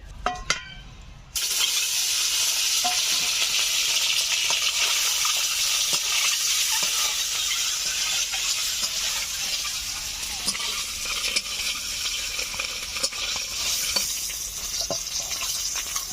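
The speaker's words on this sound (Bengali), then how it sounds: "তেল গরম হয়ে গেছে, ডিমগুলো ভেজে নিচ্ছি।" Boiled eggs fry in hot mustard oil in a wok. After a brief quiet start, a loud, continuous sizzle and crackle sets in and carries on for the rest of the clip, with scattered stirring knocks.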